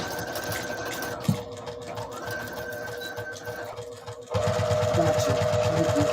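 Sewing machine stitching straight across a seam on a small fabric bag, a steady motor whir that drops out briefly, then resumes louder and steadier.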